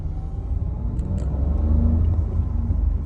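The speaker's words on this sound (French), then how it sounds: "Bon là je viens de démarrer, vous voyez, démarrage sans clé" A Renault Clio IV Phase 2 five-door with a 0.9 TCe petrol engine idles steadily just after a keyless start, a loud, continuous low rumble heard close up with a few light clicks and no talking.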